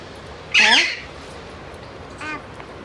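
A pet parrot at home gives a loud, harsh squawk close by, then a second, shorter and softer squawk a moment later against a quiet room.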